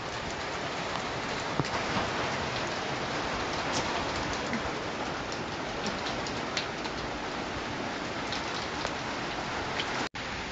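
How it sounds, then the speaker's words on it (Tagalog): Steady rain pours down in a constant, dense hiss of drops hitting surfaces, close and fairly loud throughout with no voices. "Pero umulan po siya, guys."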